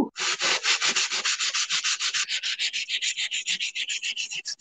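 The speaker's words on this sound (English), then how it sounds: "Want to just go through here and start sanding off those words." A sanding block scrubs the surface of a Dollar Tree coaster in quick, rhythmic back-and-forth strokes. The rasping is close and steady, about forty passes in under five seconds, with no talking.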